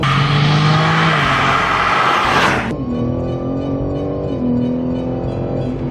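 A 2021 BMW M3 Competition, rear-wheel drive, launches hard from a standstill, its engine roaring loud and close with a brief burst of wheel spin, then a sharp shift drops the pitch into a steadier, rising drone as it keeps accelerating.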